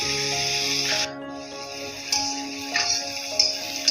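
Onions and green chillies fry gently in a pan, giving a steady close hiss with a few louder crackling bursts over a constant humming tone in the background.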